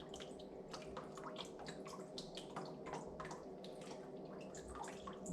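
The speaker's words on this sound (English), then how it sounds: "It'll help the water, that excess water, drip out." Excess water trickles and drips from a freshly pulled sheet of handmade paper, faint scattered droplets patter over a soft wet background wash, close and quiet.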